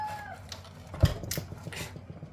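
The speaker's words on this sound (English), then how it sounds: "Well, a rooster." A rooster crows once, a short, fairly loud call, followed by a sharp knock and some scattered rustling and clatter nearby.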